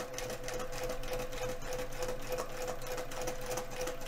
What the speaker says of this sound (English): I'd like to be able to see where I'm sewing here